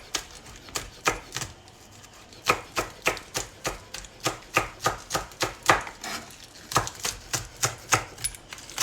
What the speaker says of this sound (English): So rolling with the knife to make nice thin strips.